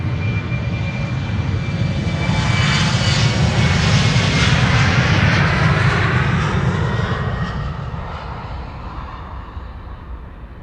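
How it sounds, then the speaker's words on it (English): KLM jet airliner taking off at Amsterdam Schiphol for Aberdeen, a loud close roar of engines that swells to a peak and then fades as the aircraft climbs away, with no talk. "And the first departure taking place. KLM number 190 to Aberdeen"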